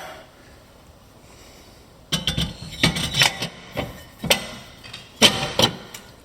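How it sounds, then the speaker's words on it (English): A brake rotor is fitted onto the rear hub of a BMW E39. After a quiet start come a series of close metallic clunks, taps and scrapes in irregular bursts. "I'm going to try to mount this rotor up"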